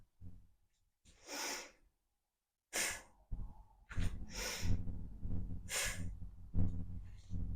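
Breathing during a beginner vinyasa yoga flow, several loud, close, forceful exhales and sighing breaths in an uneven rhythm, followed by heavier continuous breathing and rustling movement.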